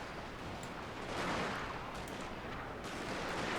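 Massed battlefield gunfire from the strategy game Fall of the Samurai, a dense continuous crackle of musket and artillery volleys with a swelling roar, loud and steady throughout.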